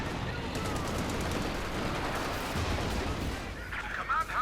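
MG34 machine gun bursts crackle in a Company of Heroes 2 one-versus-one match, rapid gunfire rattling under steady background battle noise, with a few sharper shots near the end.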